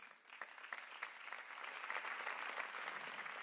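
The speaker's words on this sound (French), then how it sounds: "avec les applaudissements" Audience applause at the Elwa d'Or 2012 awards ceremony in Guadeloupe, a dense, sustained crowd clapping that swells slightly and holds steady throughout.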